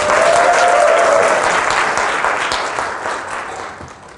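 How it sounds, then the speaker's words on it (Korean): Loud, dense applause from an audience at a company leadership event, a steady wash of many hands that holds strong for a few seconds and then gradually thins and fades. "우리 천진우 사장님한테 박수 한번 좀 보내주세요."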